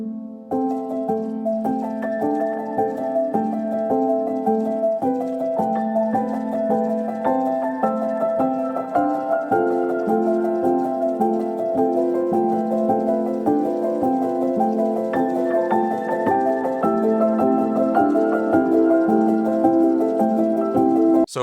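Layered electronic music building toward a climax, with interlocking percussive piano ostinatos repeating in a steady rhythm over a dense, sustained bed. The sound is loud and continuous throughout.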